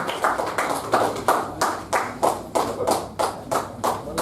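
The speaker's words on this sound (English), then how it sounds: "So big round of applause to" An audience claps for the role players of a Toastmasters club's Division I at an awards event, a steady run of distinct handclaps in a regular rhythm, close and fairly loud, with no talk over it.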